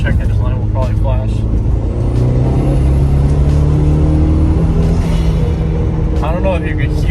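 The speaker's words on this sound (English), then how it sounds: "if I hit boost or load the engine, it'll misfire" Engine of an Audi TT under boost and load, a steady loud rumble of the running car with uneven stumbling bursts from a misfire, heard close under occasional talk.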